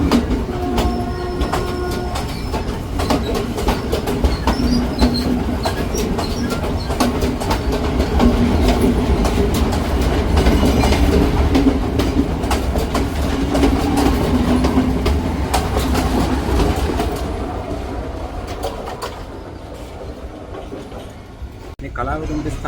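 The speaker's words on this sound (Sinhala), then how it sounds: "ඔන්න දැන් කොළඹ ඉඳන් ආපු උදේ දේවි දුම්රිය පොළොන්නරුව සහ මඩකලපුව බලා පිටත් වෙනවා" Udaya Devi Express pulling out of Kalawewa station in Sri Lanka, bound for Polonnaruwa and Batticaloa: a steady loud rumble of rolling railcars with some wheel noise, swelling mid-clip and easing toward the end, with voices faintly in the background.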